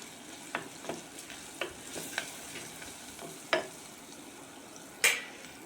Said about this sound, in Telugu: ఇవి కూడా ఉల్లిపాయలతో పాటు కాస్త వేగాలి